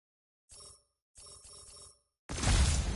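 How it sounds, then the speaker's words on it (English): Wind chimes in the video game Spider-Man: Miles Morales ring in two brief bright clusters separated by silence, followed by a sudden loud burst of noise. "Wind chime."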